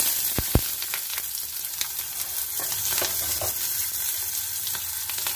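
Onion frying in hot oil with mustard seeds and chana dal, a steady close sizzle and crackle with a couple of sharp pops near the start and light stirring scrapes throughout.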